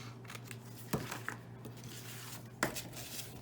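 Scissors trim the overhanging paper edge of a handmade 3D greeting card, giving two quick, crisp snips a couple of seconds apart over a low, steady room hum.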